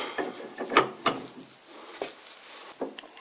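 A freshly polished, machined steel spindle being test-fitted by hand, giving a few soft scraping and knocking contacts followed by quieter rubbing, close up with no talking.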